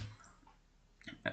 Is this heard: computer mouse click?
yes